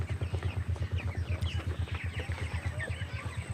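Broiler chickens in a farm shed make soft clucks and short chirps over a steady, rhythmic low pulsing hum, moderately close with no talking.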